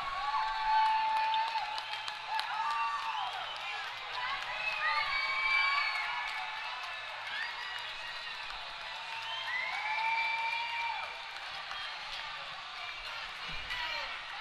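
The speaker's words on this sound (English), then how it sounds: "The crowd erupts in Puerto Rico." A crowd at a Chile versus Puerto Rico men's ice hockey game cheers after Puerto Rico's first goal, sustained loud roaring with whoops and high shouts rising and falling throughout.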